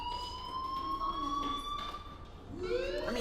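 In the video game Life is Strange, a fire alarm rings with a steady electronic tone that holds level throughout, with a voice and some background activity faintly underneath.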